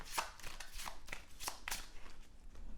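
A deck of cards for a Marvel Champions board game being shuffled up close, heard as a series of quick riffling bursts in an uneven rhythm at fairly low volume.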